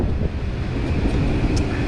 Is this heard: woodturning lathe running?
no